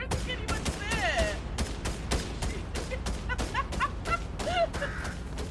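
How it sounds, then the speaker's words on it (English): Rapid volley of gunshots in the video game Disco Elysium, a dense run of crackling shots filling the whole span, with birdlike chirps and other game sounds layered in. "Is she just shooting herself?"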